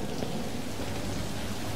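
Steady rain from the VR game Blood & Truth hisses as a soft, continuous wash of falling drops, faint and even throughout with no voices over it.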